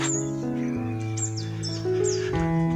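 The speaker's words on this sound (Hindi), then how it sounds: "परिंदों की चहचहाने की आवाज़ें" Small birds chirp in short, high tweets in a hillside forest near Murree, scattered over a steady tonal background.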